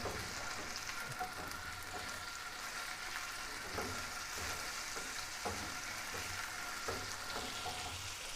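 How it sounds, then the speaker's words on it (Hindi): Chopped garlic fries in about a tablespoon and a half of oil, giving a soft, even sizzle with faint stirring ticks throughout, quiet and close, no talk. "इसमें मैं तकरीबन 3 अदद गार्लिक को चॉप करके डाल दिया। इसको थोड़ा सा फ्राई करूँगा मैं।"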